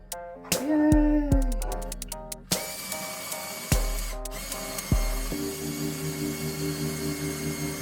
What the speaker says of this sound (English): So right now we're starting to drill out for our cavities here.